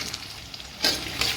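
Onions frying in a pan: a steady oily sizzle that swells into louder, brighter crackling bursts about midway and again near the end, up close with no talking.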